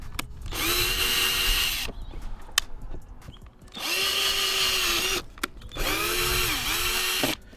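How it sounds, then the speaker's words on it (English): A power drill bores into the plastic rear bumper of a 2022 Honda Civic Si while a rear diffuser is fitted. It runs in three loud, close, sustained bursts separated by short pauses. "Drilling into a bumper?"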